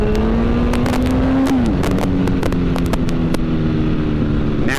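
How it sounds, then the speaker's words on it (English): A motorcycle engine drones steadily and revs slightly as the clutch is let out for a wheelie, the tone dipping then holding, with wind buffeting and clicking pops throughout at close range. "We're going to pull in our clutch here as we rev it, and then we'll just let out that clutch."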